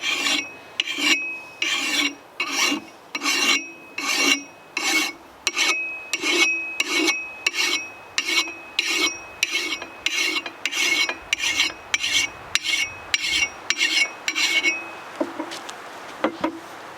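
A single-cut file rasps along the hard steel edge of a vintage Mann-Edge axe in about twenty even, rhythmic strokes, close and loud, each stroke a bright scraping burst with a faint metallic ring, with no voices.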